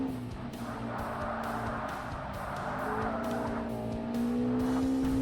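A Lotus Exige Cup drifts in Forza Motorsport on Xbox, its engine droning steadily while a rising, sustained tire squeal builds under it and grows louder toward the end.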